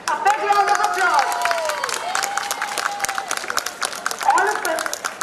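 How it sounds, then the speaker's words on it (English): Audience applause at a school class reunion for the 1996-97 batch, steady clapping sustained over several seconds and mixed with crowd noise and voices talking over it. "A big round of applause."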